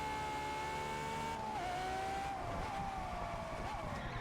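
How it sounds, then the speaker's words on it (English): A Ferrari 812 Superfast in the Test Drive Unlimited Solar Crown racing game revs steadily with a sustained high engine note that dips and climbs, loud and close throughout. "Ferrari 812 Superfast. Woo! It sounds like a Ferrari."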